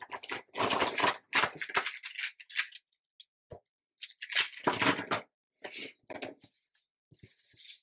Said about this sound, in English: Okay, so I'm ready to cut these out.